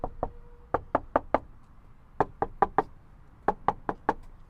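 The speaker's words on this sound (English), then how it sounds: "we're gonna go ahead and do a knock test and see if we got rid of that metal tinging sound" Knuckles knock on the sound-deadened rear liftgate of a Toyota Land Cruiser in three quick groups of four to five dull raps, close and solid, with short pauses between groups and no talking.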